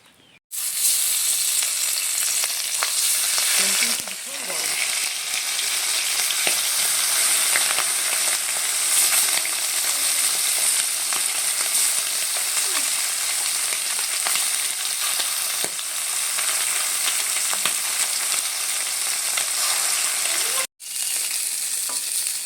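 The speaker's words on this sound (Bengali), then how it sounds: "মাছ সব ভাজা হয়ে গেছে, তুলে নিচ্ছি।" Fresh pond fish frying in oil in a kadai, a loud, steady sizzle that runs unbroken for the whole stretch, close by and alone with no voices, with one short drop near the end.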